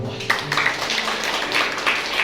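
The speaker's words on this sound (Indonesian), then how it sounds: "Tepuk tangan" A congregation at a New Year church worship service applauds with a dense, steady wash of clapping. The clapping is close and fairly loud and lasts a couple of seconds.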